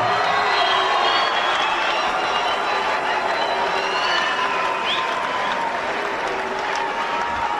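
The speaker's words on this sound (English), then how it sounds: "Ladies and gentlemen, how about a big round of applause?" A crowd at an Icon 45 fight event roars with sustained applause and cheering, a dense wash of clapping with whoops and shouts rising over it, loud and continuous throughout.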